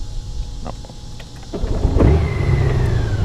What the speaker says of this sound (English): the bike cranked up with just by holding the brake and the off and on switch